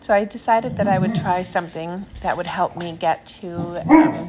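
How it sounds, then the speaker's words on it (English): A dog barks in the background at home, with a few short distant yaps under a person's steady, continuous speech. "that's my dog barking in the background."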